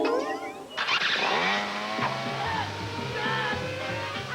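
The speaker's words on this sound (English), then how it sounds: "I'm just checking out this Home Light electric start gas trimmer." A Home Light electric-start gas string trimmer cranks and fires up, then settles into a loud, steady two-stroke engine whine close by, with an announcer's voice over it.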